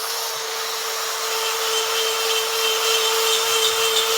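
A small tungsten carbide burr spins at 30,000 RPM, giving a steady, loud high-pitched whine with a sustained tonal hum, constant throughout without pauses or talk.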